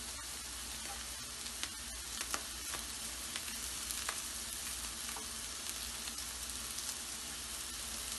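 Green chilies sizzle in hot oil for an anda ghutala, a steady broadband crackle with scattered sharp pops, close and fairly quiet, no voices.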